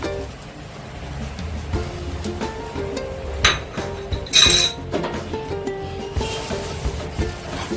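Ground cumin, ginger paste and turmeric paste stirred in a pan for oil-free chana dal, with a spoon scraping and clinking against the metal in uneven strokes, close and moderately loud.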